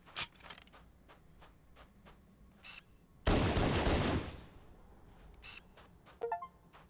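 Halo video game pistol fire comes as a series of sharp separate cracks and a denser burst of shots mid-way, over a faint electronic hum, at moderate loudness with no voices.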